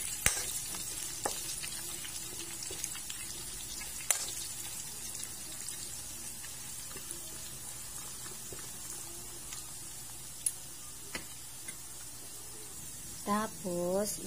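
Onions sauté in a pan with a faint, steady sizzle and occasional clicks of a utensil, and a voice briefly speaks near the end.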